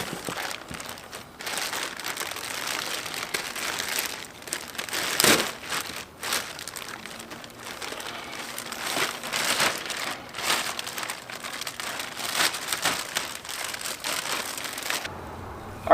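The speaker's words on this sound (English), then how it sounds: "We're gonna go ahead and take it out of the bag" A plastic bag crinkles and rustles steadily, close and fairly loud, as Mishimoto performance radiator fans are pulled out of it, with brief crunchy peaks and the noise cutting off abruptly near the end.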